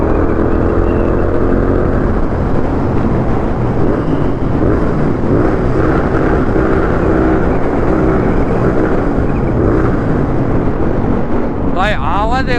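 A Royal Enfield GT 650 motorcycle rides through a tunnel on the road from Pune toward Lonavala. A loud, continuous engine roar mixes with wind rush throughout, and a brief voice comes at the end.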